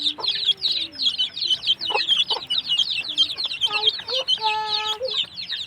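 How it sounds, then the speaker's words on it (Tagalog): Rhode Island Red chickens clucking close by in repeated short bursts, with a few longer drawn-out calls among them. "Rhode Island Red Chicken."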